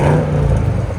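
A modified German V8 engine revs loudly and close, a single sustained roar with a deep steady tone, alone with no talk.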